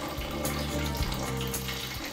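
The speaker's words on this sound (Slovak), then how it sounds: "Odvážime si 225 g rozkvasu, do ktorého zamiešame" Cold water pours into sourdough starter in a bowl while pizza dough is being made, a loud steady splashing stream running throughout.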